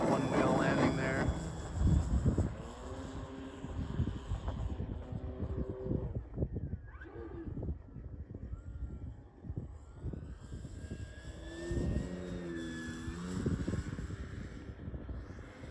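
A 10cc Hangar 9 J-3 Cub model airplane engine whines overhead, its pitch rising and falling as it passes, with talking and wind buffeting the microphone throughout.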